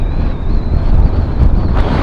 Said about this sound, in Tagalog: Sarap lang hapin yung hangin dito kasi nga fresh air.